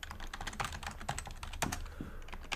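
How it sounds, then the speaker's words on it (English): Rapid computer keyboard typing, a close, steady run of crisp key clicks with no voices, as a short phrase is entered for an announcement slide. "we'll type in worship and prayer"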